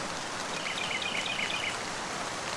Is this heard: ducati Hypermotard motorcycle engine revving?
no